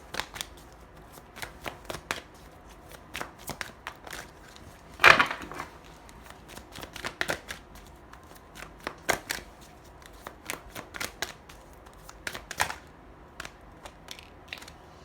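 Tarot cards being shuffled up close, a run of quick crisp riffles and soft slaps in irregular bursts with short pauses, one louder flurry near the middle, and no talking.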